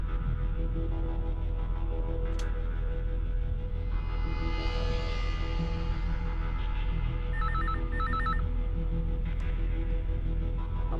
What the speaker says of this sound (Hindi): तुम मेरे को फिर से फोन कर यार शमशेर।